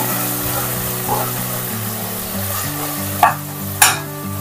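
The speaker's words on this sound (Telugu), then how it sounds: "సో ఇప్పుడు ఈ కొత్తిమీర పుదీనా కూడా మనకు చక్కగా వేగనివ్వాలి." Fresh coriander and mint sizzle in a pan for bagara rice, a steady frying hiss with a couple of sharp clinks from a stirring spoon near the end.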